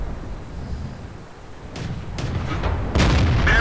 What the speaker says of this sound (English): I shot right to the gun of that other heavy tank